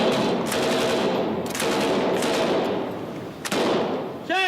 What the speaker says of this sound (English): Stop talking, go on firing.